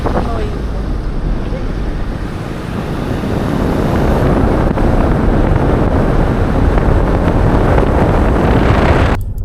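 Steady engine rumble and rushing water from a boat moving across open water, with heavy wind buffeting the microphone throughout.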